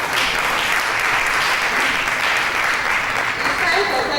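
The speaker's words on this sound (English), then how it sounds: "can we please give another round of applause to the presenter?" An audience at a medical laboratory science thrombosis day event gives the presenter a loud, sustained round of applause, with voices mixed into the clapping.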